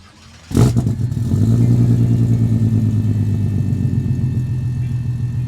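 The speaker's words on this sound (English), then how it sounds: "It does sound like a Valiant, I guess, yeah. 6-banger." A Valiant car engine with a Barra six-cylinder swap cranks and catches, then settles into a steady, low six-cylinder idle with an even rumbling pulse, close by.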